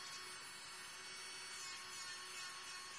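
Steady high-pitched whir of an electric nail drill with a ball bit cleaning around the nail contour during an American nail application, continuous and faint, with no talking.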